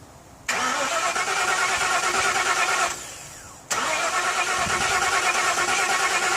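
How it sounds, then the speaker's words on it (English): A car engine, just after its valve rockers were readjusted, cranks and catches, drops back briefly, then fires again and runs at a steady, loud idle close by. "So we're going to fire it up and see if it lopes hard like a weak cylinder and check for leaks again."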